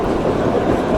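The Kalka-Shimla toy train climbs a mountain line in a steady loud rumble, a dense close rolling roar with no clear wheel beats in a short stretch.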